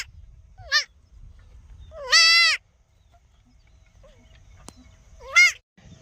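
A goat near its kid gives three short, clear bleats at separated intervals in a quiet outdoor setting, with faint low background noise between the calls.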